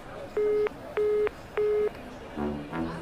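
A telephone call cuts off, followed by a disconnect tone of three evenly spaced, steady beeps, each about a third of a second long, then fainter, softer tones trailing after them.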